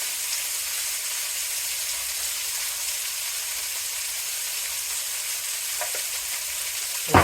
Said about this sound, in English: See the sizzle?